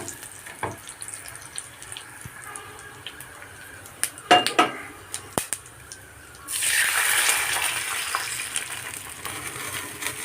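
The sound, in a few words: yogurt poured into hot pan with chillies, sizzling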